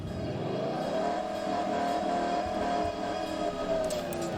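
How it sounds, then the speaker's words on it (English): A 2018 Ford F250 pickup's engine holds a steady revved drone close by, a continuous tonal hum that swells slightly and eases without pause. "let me rev this truck up for you"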